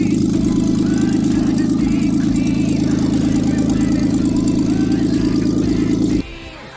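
A 1999 Dodge Avenger engine runs with no exhaust fitted, roaring loud and steady with a harsh low rumble for about six seconds, then cutting off abruptly and leaving quieter background.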